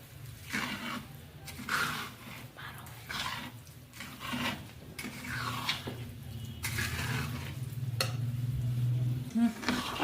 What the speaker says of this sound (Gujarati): પછી કાજુ બદામના ટુકડા છે, પછી આ ગુંદર છે. એ બધું નાખી અને મિક્સ કરવાનું.